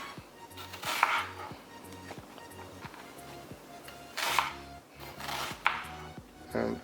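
Ingredients for pork curry cut into small pieces on a board, a steady series of close knife chops with a few louder scraping bursts, no talking.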